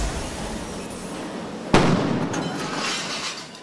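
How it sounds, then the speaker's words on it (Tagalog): One sudden loud blast cracks out midway during a building fire in Manila, then fades into a roaring, crackling rumble. "Dinig ang malakas sa pagsabog habang nagbabaga ang sunog"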